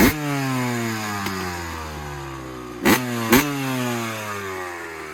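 A Yamaha 250 YZ dirt bike engine idles and warms up close by, a steady two-stroke burble with harmonics sliding as the revs settle, broken by two short sharp blips near the end.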